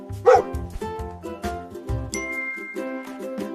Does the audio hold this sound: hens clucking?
no